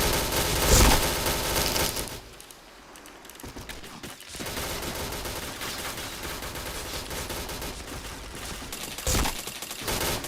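Loud, continuous gunfire from a video game shooter, with dense overlapping bursts and rapid automatic fire that briefly dips before resuming.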